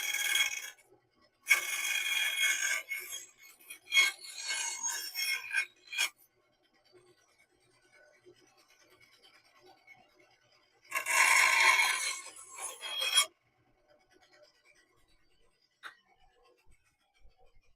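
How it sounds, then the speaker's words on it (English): A bandsaw trims a piece of wood in a woodworking shop, two bursts of cutting about four and two seconds long separated by quieter shop noise and light handling sounds, fairly close and with no talk. "I'm going to take this over to the bandsaw and trim this out really quick."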